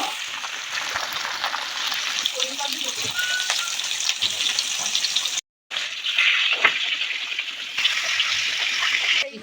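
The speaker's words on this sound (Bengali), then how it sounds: "আমি মাছগুলো তুলে নেব আর বাকি মাছগুলো ভেজে নেব।" Fish sizzling and spitting in hot oil in a home kitchen, a dense, continuous crackle that drops out briefly near the middle and then resumes at a similar level.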